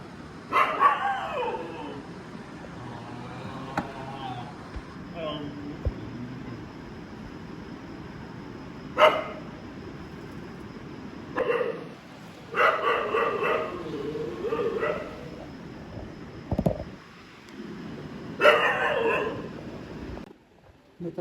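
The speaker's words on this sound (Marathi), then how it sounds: "रात्रीचे लच कुत्री भुकतात." Dogs barking outdoors at night around 3 a.m. in Pune, several distant and mid-range barks and yips in scattered bursts over a quiet background, with a person speaking occasionally.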